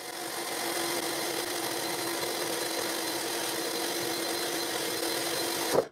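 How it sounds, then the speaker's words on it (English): A power drill whines steadily through wood for several seconds, drilling a clamp hole in a 45-degree crosscut jig, close and continuous, then cuts off abruptly. "Now I drill the hole to install the clamp."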